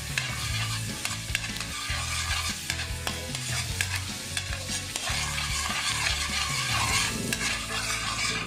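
Garlic fries in butter for buttered crabs, giving a loud, continuous sizzle and crackle close by, punctuated by frequent clinks and scrapes of a utensil stirring against the pan, with no voices.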